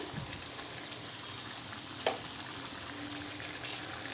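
Bangalore gutti brinjals, stuffed eggplants, cook covered in a pan with a steady soft sizzle and bubbling, a faint click partway through.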